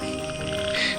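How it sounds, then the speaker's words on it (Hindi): Frogs croak in a jungle tiger reserve, a steady layered chorus of calls going on throughout the short stretch, fairly close with no voices over it. "आवाज़ें आ रही हैं मेंढक की।"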